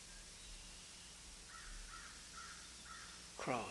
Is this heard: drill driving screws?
no